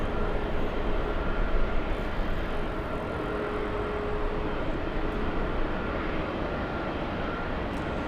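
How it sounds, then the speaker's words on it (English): A Boeing 777 airliner at LAX airport, heard as a steady broad jet engine roar that holds at a constant level throughout, with no talk. "Let me show you the big 777, the one heading to Shanghai"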